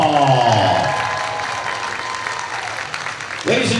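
Applause from the crowd at a college volleyball match between Western Washington and Seattle Pacific for a senior player, a sustained round of clapping that fades gradually, with an announcer's voice over the start.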